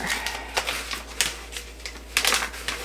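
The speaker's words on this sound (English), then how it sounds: "But I gotta first peel off this paper." Backing paper being peeled off a sheet of contact paper during a pantry shelf-lining job, giving a series of short crackly rips and tearing bursts in an uneven rhythm, close and fairly clear with no talking.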